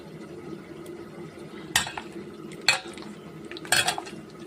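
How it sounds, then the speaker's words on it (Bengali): Jackfruit pulp segments squeezed and mashed by hand in a bowl, giving soft wet squelches and three sharper clattering bursts over a low steady kitchen background. "কোয়াগুলো ভালো করে চটকে নিচ্ছি"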